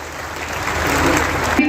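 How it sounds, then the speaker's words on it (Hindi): Crowd at a political rally with the chief minister Yogi Adityanath, clapping loudly and steadily in a dense continuous wash of applause, with a voice over it. "एक बार जोरदार तालियों के साथ स्वागत"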